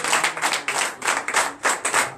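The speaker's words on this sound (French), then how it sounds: "Donnez encore l'acclamation à notre Jésus." A church congregation at a Sunday worship service in Comè, Benin, clapping together in acclamation, a dense rhythmic wash of many hands in quick bursts, close and loud.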